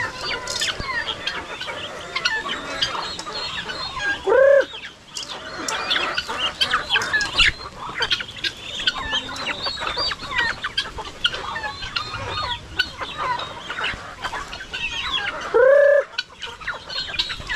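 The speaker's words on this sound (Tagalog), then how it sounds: "Marami na tayong mga alaga, oh, mga manok natin." Chickens cluck and squawk steadily close by on a farm, with two louder, sustained calls standing out amid the busy flock chatter.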